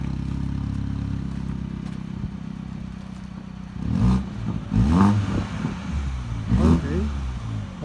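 A Honda Civic engine on a lightweight budget build idles steadily, then gets several quick throttle blips that rise and fall nearby, with voices talking over the revs.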